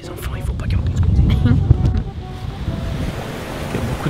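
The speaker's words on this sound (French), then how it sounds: "Il y a beaucoup de vent." Strong wind gusts and rough surf on the shore at the end of a village road near a dune inn on Isle-aux-Grues, roaring and buffeting the microphone, loudest early and easing slightly later.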